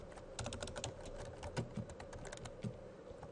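Quick, uneven keystrokes clatter on a computer keyboard, steady clicking with a few heavier taps, close and alone with no voices.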